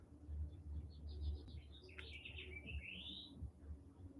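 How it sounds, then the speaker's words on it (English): A pet bird chirps indoors with quick, faint tweets followed by a longer rising call, set over a low background rumble. "Remember my bird? Can you hear him?"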